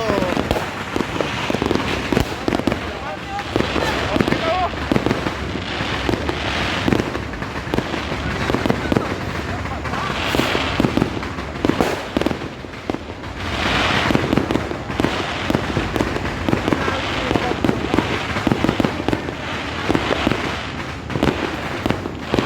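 A steady barrage of New Year fireworks, rapid pops and louder booms overlapping nonstop, with people's voices faintly mixed into the din.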